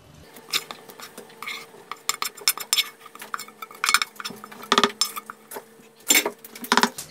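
A utensil clinks and scrapes against a bowl in quick, uneven bursts as leek is added to cornmeal cake batter, close and fairly quiet with no talking.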